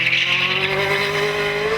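Ferrari 355 climbing the Gurston speed hillclimb course, its engine note a loud, steady, slowly rising howl held close throughout, with some tyre noise underneath and nobody speaking.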